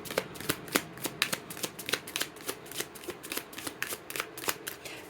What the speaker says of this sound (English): We'll give it one more shuffle